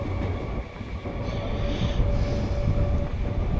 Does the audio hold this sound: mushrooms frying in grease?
no